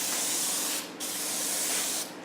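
Clear coat sprayed from an aerosol onto an A-10 aircraft model, a steady close hiss running almost the whole time with two short pauses between passes.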